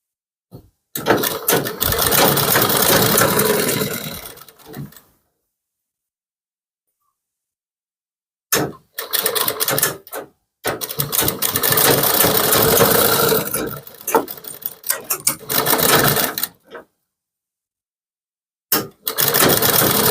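A sewing machine stitches the shoulder seams of a kurti in three loud bursts of steady running, separated by silent pauses, the last burst starting just before the end.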